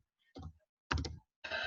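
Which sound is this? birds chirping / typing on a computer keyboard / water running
typing on a computer keyboard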